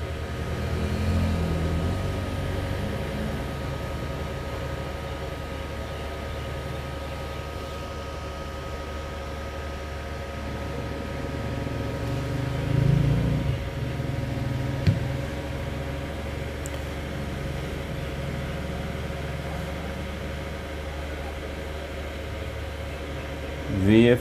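A repaired INVT VFD drive, previously showing an OU1 fault, running a motor: a steady, continuous electrical hum with a few faint knocks, and otherwise no change for the whole stretch.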